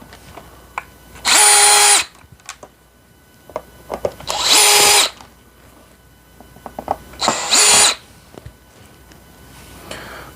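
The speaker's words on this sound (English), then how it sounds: "take these screws out" Power drill backing screws out of a Bissell Multi Clean brush roll, three loud whirring bursts of about a second each, close up, with small clicks and handling noises in between.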